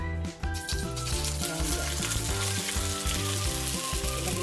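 Garlic and ginger sizzle and fry steadily in a pan for a beef curry, a continuous close crackle with music-like tonal bands underneath throughout.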